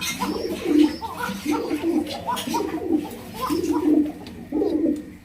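Several fancy pigeons coo together in low, rolling, repeated calls, close by and fairly loud, with overlapping rhythmic phrases.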